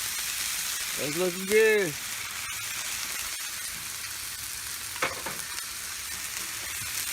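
Squash and onions sizzle and crackle steadily in oil on a Blackstone flat-top griddle, a constant close frying hiss with a few short speech sounds over it.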